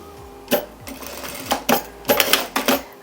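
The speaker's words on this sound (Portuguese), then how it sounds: "Faz aqui uma costurinha, um retrocesso." Sewing machine stitching an agenda cover with a short backstitch, heard as several brief close bursts of whirring stitches separated by pauses, with faint background tones and no talk.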